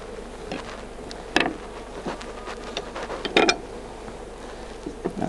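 Honey bees buzz steadily around an open top bar hive during a transfer from a nuc, a close, continuous hum with individual bees droning past now and then.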